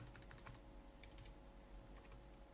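Rapid typing on a computer keyboard, a quick irregular patter of close key clicks over a low steady hum, faint overall with no talk.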